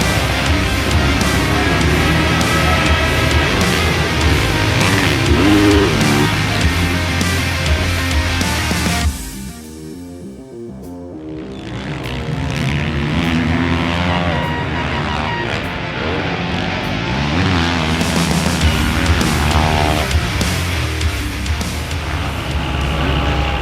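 A pack of Yamaha motocross bikes revs loudly at the starting gate in a dense, layered engine roar that dips abruptly partway through, then builds again as the engines howl back up.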